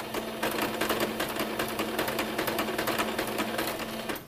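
A sewing machine runs back and forth over fabric to back stitch, a close, steady rapid whirr with fine repeated needle ticks and no talking.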